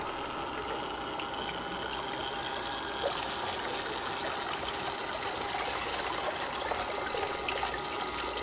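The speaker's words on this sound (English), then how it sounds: "just go ahead and turn on the water and just allow it to fill back up." Water steadily filling a five-gallon bucket filter system, a continuous rushing and trickling flow with a faint pump-like hum, close and even throughout.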